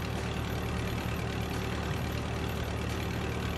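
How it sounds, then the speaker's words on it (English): A forklift engine in a video game drones steadily at a low, rumbling pitch, holding a constant loud idle-to-rev hum with no talking over it. "break through it by revving like that"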